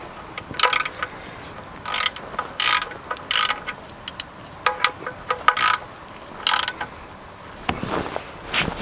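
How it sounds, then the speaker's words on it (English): A 17mm socket ratchet tightens a drain plug during an oil change on a 2011 Hyundai Elantra, giving bursts of rapid clicking pawl ratchets in short irregular strokes, fairly close and alone with no talking. "And then we're going to take our socket ratchet, the 17mm, and tighten it up."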